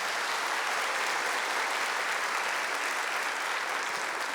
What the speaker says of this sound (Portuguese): Vamos saudar o Senhor com uma salva de palmas então.